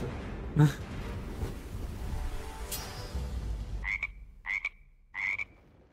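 Frogs croaking in a comic anime parody: three short, bright, nasal croaks in a row near the end, each clearly separated, following a jumble of noisy effects and a brief voice earlier on.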